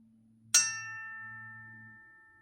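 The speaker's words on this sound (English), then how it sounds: "That is a church bell." A church bell struck once, loud and close: a bright metallic strike that rings on with a sustained humming tone and fades slowly over about two seconds.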